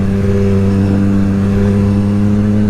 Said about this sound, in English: That Leo Vinci exhaust I have, it's got a deep rumble, it's nice and raspy